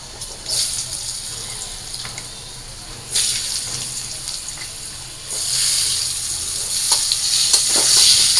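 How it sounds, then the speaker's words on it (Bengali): Potatoes frying in hot oil seasoned with turmeric and salt, a steady loud sizzle that swells in waves as the pieces are stirred, with faint talk underneath. "তো মাংস রান্না করার জন্য আলুগুলো আমি ভেজে নিই।"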